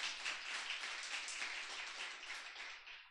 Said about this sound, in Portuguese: Vamos acolher com a salva de palmas.